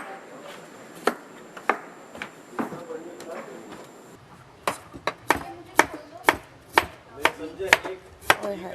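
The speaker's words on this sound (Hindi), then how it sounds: "इतने बड़े प्याज मैं इनको ना चॉप करती हूँ छोटा ना।" A knife chops large onions on a board in sharp, close taps, a few sparse strikes at first, then a quicker, regular run of about a dozen crisp chops, with faint talk beneath the early part.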